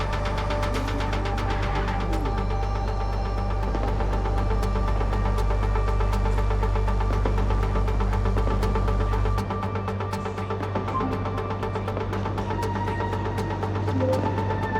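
Car engine droning steadily while driving in the video game MindsEye, a constant low rumble with game sound layered on top that drops in weight partway through.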